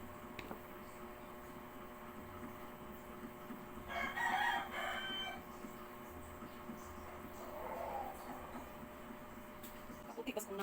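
A rooster crows once, faint and somewhat distant, against a quiet steady background hum, with a softer fowl call a few seconds later.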